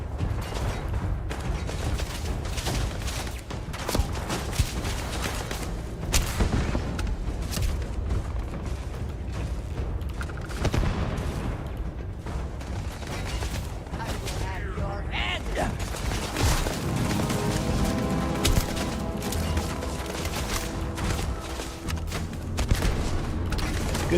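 Turrets firing in Starfield make dense, continuous mechanical rattling and cracking shots amid clanks, creaks and booms, loud and busy throughout with no clear pauses.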